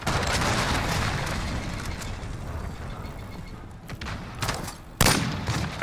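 Suppressed AS VAL rifle fire in a military video game, with rapid bursts of dense shooting under distant booms and battlefield noise, growing sharper toward the end.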